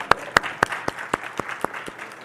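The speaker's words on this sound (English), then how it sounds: "Can you please give her another round of applause?" Applause from an audience at a leadership academy closing ceremony, sparse and fading, with several loud individual claps standing out over a thinning patter of hands.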